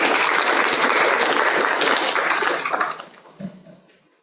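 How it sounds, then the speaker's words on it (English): Graduation reception crowd applauding as a College of Engineering graduate comes forward; steady dense clapping from many hands for about three seconds, then thinning out into a few scattered claps before stopping. "Let's give her a round of applause as she comes forward, please."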